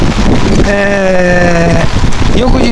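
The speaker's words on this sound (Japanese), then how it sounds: "今土砂降りです。" Heavy downpour after a typhoon: steady, dense rain hiss fills the whole clip. A brief tonal sound rises over it midway, and a voice speaks at the start.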